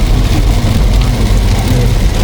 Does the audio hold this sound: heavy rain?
yes